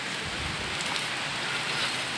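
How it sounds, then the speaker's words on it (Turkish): Rain falling steadily in a village, a dense, even hiss of drops on surfaces, close and constant with no voices over it. "Yağmur da başladı tabii bu arada."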